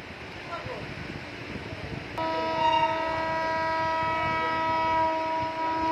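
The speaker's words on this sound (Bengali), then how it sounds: "ছেড়ে দিল ট্রেনটা" A train departs, first as a low rumble with children and adults talking nearby, then a loud sustained horn blast cuts in and holds steady over the rolling noise.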